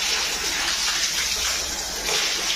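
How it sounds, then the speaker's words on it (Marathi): Water from a hose pipe gushes steadily as a puppy kennel for Labrador puppies is washed down, a continuous loud rushing spray with no pauses. "तर हे अशी पाईप लावून सगळं धुवून घ्यायचं चालू आहे।"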